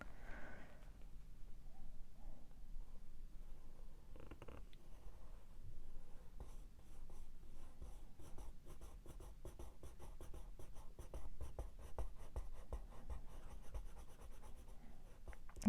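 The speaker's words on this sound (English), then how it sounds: "I'm gonna do a general swatching here so I can also dilute it" Derwent Inktense watercolour pencils scratching across paper in steady, close strokes while colour swatches are laid down, with a dense run of quick scribbling in the second half and no talking.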